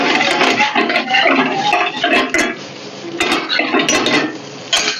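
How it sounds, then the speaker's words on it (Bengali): Chopped vegetables tossed and sautéed in a pan for a veg white sauce pasta, with steady sizzling broken by repeated clinks of a spoon against the pan, close and clear. "ভেজিটেবিলগুলো হালকা করে সতে করে নেবো।"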